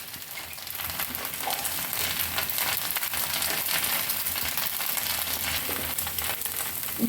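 A thick Davangere butter sponge dosa roasts on a griddle after being flipped and buttered on both sides, giving a steady crackling sizzle, close and fairly quiet throughout, alone with no voices.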